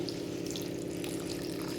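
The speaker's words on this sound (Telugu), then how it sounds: "హాఫ్ కప్ వాటర్ వేసుకున్నానండి" Steady running water, about half a cup, pouring into a pot of egg and prawn curry, a continuous splashing rush with no voices.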